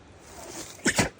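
A dog sneezes outdoors at a dispersed forest campsite in Wayne National Forest, Ohio, two quick, close, sharp bursts in a row after a faint sniff, with no talk.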